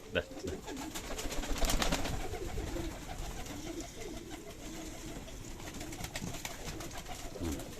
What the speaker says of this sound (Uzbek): Bu bitta kaptarxonamiz.